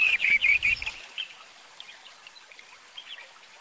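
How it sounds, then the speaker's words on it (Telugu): Small bird chicks trapped in floodwater chirp in a quick burst of high, bright tweets, then softer scattered peeps trail off over a quiet background. "ఆ వరద నీటిలో ఒక పక్షి పిల్లలు చిక్కుకుంటాయి."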